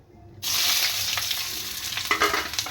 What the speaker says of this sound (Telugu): చూడండి, ఆయిల్ హీట్ ఎక్కింది, ఉల్లిగడ్డ అయితే వేసేస్తున్నాను.